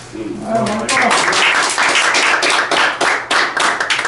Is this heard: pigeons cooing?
no